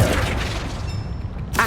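Flipendo spell cast in Hogwarts Legacy: a short booming magical blast with rumbling decay, followed by a brief bright burst at the very end.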